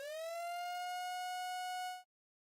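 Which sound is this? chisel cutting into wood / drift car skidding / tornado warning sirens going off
tornado warning sirens going off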